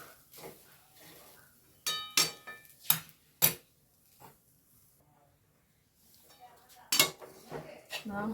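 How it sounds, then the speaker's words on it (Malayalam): A metal spoon scrapes and clinks against a pan while jackfruit seed avalose powder roasts, giving sharp, irregular knocks in two bursts separated by a quiet stretch, with a faint voice in the background. "അങ്ങനെ നല്ലോണം ഒന്ന് വറുത്തെടുക്കട്ടെ"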